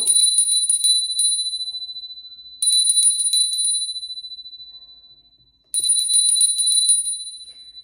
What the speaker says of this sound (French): on va faire retentir la petite cloche 3 fois